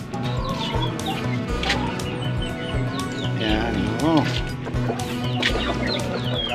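Chickens cluck and squawk in a backyard coop beside a house, several birds calling over one another in a steady close chorus, with one drawn-out call rising near the middle and voices talking underneath.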